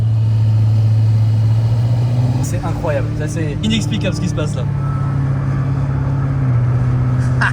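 A Lamborghini police car's engine hums steadily at low pitch close by while a person talks excitedly over it.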